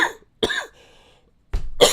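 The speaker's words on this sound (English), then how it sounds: "Sorry about the coughing" Someone coughs close to the microphone in short harsh bursts: one cough, a pause, then two more in quick succession, with quiet between them.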